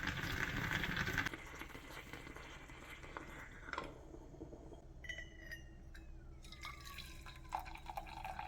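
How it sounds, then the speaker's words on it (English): Coffee bubbling up in a small moka pot, with drips, gurgles and rising hissy squeals over a steady low rumble, close and moderately loud, no voices. "I took solace in making coffee with my little mocha pot"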